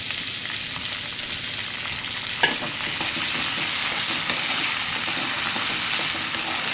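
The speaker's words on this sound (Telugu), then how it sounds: "ఇవన్నీ ఫ్రై చేసుకోవాలి మంచిగా." Diced potato and carrot sizzle steadily in a hot pan with curry leaves for a breakfast dish, a close, even frying hiss with a brief clink of stirring partway through.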